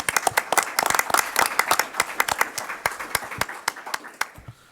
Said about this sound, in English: So another round of applause for our new administrator.